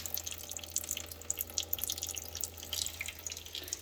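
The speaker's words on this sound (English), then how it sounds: "it's just dripping" Water drips steadily from a household pipe, a fine run of small splashes and trickles with faint background hum, no voices.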